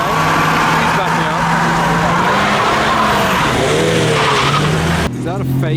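Renault Clio V6 car revving hard with tires skidding and squealing, loud and continuous, with a sharp change near the end and voices shouting over it.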